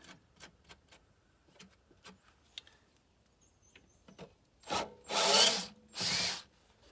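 Screws being worked loose from trim during a Furrion tankless water heater install: light clicks and taps at first, then three louder bursts of scraping or driving toward the end, with no talk.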